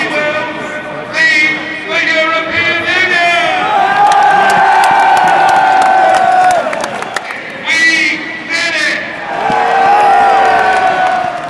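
Excited crowd at a Brexit night celebration with Nigel Farage about to speak, loud sustained cheering, whoops and shouts rising in waves, with brief dips before swelling again.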